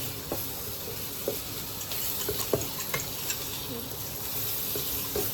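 Food stir-fried in a pan gives a steady close sizzle, broken by repeated scraping strokes of a spatula that land every second or so throughout.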